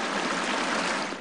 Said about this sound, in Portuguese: A água que escorria pelo meio-fio parecia cachoeira.